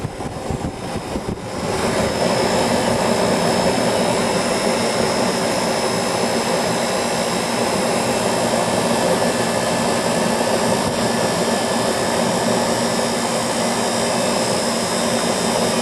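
An old Carrier air conditioner condenser unit at a church starts up and runs loud and steady, a dense roaring whir with a constant mechanical hum throughout.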